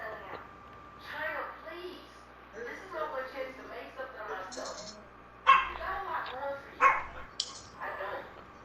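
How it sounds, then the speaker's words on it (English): A puppy barking and yipping for attention, two sharp loud barks standing out over ongoing background talk, with softer whimpers and yips around them. "Whose puppy is fucking asking for attention?"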